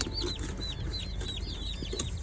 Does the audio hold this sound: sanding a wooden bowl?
no